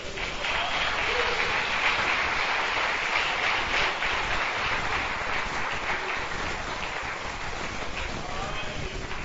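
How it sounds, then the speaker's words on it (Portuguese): A church congregation claps in praise, a steady, dense roar of applause sustained for several seconds, broad and even like heavy rain, with little else breaking through. "Você pode glorificar o Senhor com as suas palmas."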